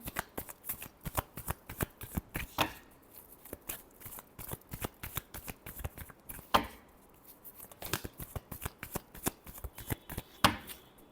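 Tarot cards are shuffled close by in quick, rhythmic riffles and taps, with bursts of crisp flicking and a few louder slaps as the deck is squared.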